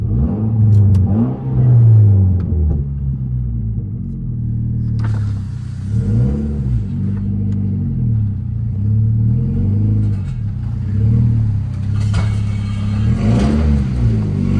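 A Mitsubishi Lancer Evolution X with its exhaust ripped off revs loudly close by, the raw engine note rising and falling in repeated throttle blips over a steady rumbling idle.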